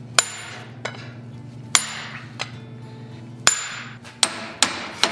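A hammer drives a chisel into hot forged steel to cut the mouth of a dragon head in a vise, sharp ringing metallic strikes at an irregular pace, about eight in all, close and loud with brief decays.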